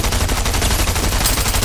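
A minigun fires in the Fortnite video game, a loud, unbroken stream of rapid shots that lasts the whole moment with no pauses.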